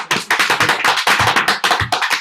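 A church youth group congregation claps together at a Sunday worship service, with loud, sharp, close hand claps falling in a quick, mostly steady rhythm that holds through the whole stretch with no voices.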